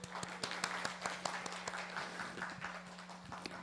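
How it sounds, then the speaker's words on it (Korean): An audience claps steadily at an award ceremony, quietly and at some distance. Sharp hand claps punctuate the continuous patter, and a low hum runs underneath. "다시 한번 오늘 영예로운 수상을 하신 수상자분들께 축하의 박수 부탁드립니다."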